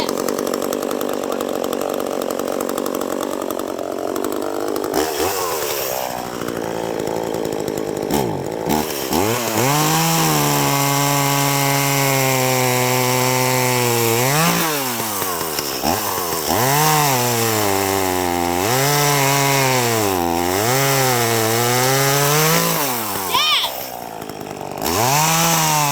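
A chainsaw drones loudly and steadily while felling a tree, its pitch rising and falling as the engine revs up and bogs down in the cut, with voices barely heard beneath it.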